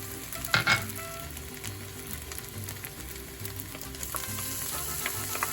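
Tomato goes into a hot pan of fried onions, setting off a brief louder burst of sizzling followed by a continuous crackling fry and a few light scrapes, with no talking.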